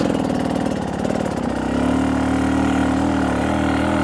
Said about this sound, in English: I'm just using the engine and the clutch to hold the bike in the place.